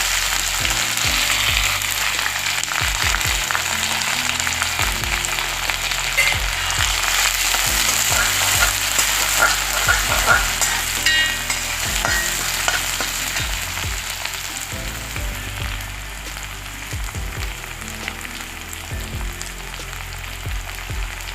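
Crushed onion and dried red chili fry in hot oil after mustard seeds have popped, giving a steady, loud sizzle with scattered crackles and pops throughout.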